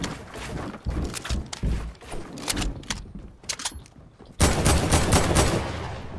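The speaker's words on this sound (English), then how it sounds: "He's shooting at me." Enemy gunfire in Fortnite crackles in rapid, uneven bursts of sharp cracks, with a brief lull before a denser, louder volley at the end; no voices over it.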